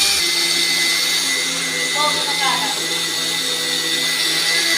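A kitchen mixer grinder runs steadily, grinding sugar into a fine powder, with a loud continuous motor whine and blade roar through the whole stretch and no pause.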